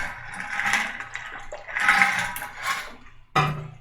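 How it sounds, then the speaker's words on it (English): A little water poured out, a soft broad wash with a few uneven swells over nearly four seconds, close and moderately loud, ending in a brief sharper burst. "All right, so a little water"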